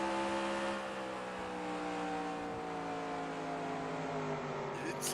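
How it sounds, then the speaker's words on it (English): A race car engine on a track at Phoenix downshifts mid-corner and revs out to 9,000 rpm, a steady loud whine with climbing tones, heard from a distance. "Wisman downshifting in the center of the corner. Revving it out to 9 grand."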